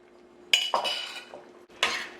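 Spoon clinking against a pot while cooked okra is stirred into simmering tomato sauce, a few distinct metallic knocks and scrapes separated by quiet pauses, close by.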